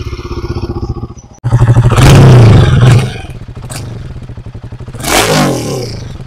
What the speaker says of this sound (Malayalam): പിന്നെ നമുക്ക് ഇതിൻ്റെ ഒരു എക്സോസ്റ്റ് നോട്ട് ഞാൻ നിങ്ങളൊന്ന് കേൾപ്പിക്കാം.